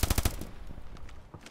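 Gunfire in the mobile shooter Standoff 2 on the Province map: a quick burst of four loud automatic shots at the start, then scattered fainter shots and game noise trailing off.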